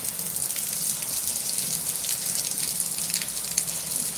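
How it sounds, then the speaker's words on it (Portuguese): Steady rain falling in Cabo Verde, a dense even hiss of drops on surfaces that holds at a constant level throughout, with no voices. "Deus deixa a chuva cair na chão."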